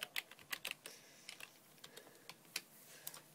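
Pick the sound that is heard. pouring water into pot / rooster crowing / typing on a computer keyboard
typing on a computer keyboard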